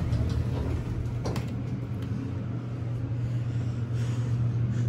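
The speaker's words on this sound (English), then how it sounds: "I'll let you hear the motor from the outside." A Dover hydraulic elevator motor, later modernised by KONE, in a former Lord & Taylor store in Stamford, runs steadily with a loud, constant low hum and drone, heard from outside the car.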